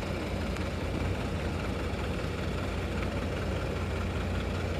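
A Hino RK bus engine idles with a steady, even low rumble and vibration, close by and unbroken, with no voices.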